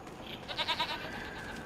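Goats bleating in the Farm Sim 25 video game, a few short wavering calls at moderate distance over a soft background hum.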